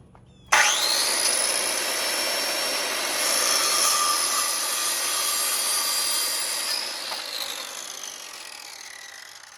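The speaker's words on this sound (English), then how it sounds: "I also got some brand new Black & Decker Piranha blades with the curved carbide teeth, and I'm gonna put one of these on the saw" A vintage Black & Decker circular saw fitted with a new Piranha blade with curved carbide teeth starts abruptly and runs at a steady high-pitched whine close by for about six seconds, then winds down gradually with no talking.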